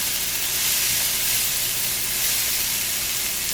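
Vegetables sizzle steadily in a hot pan after salt is added, giving a constant loud hiss that runs unbroken, with no talk over it.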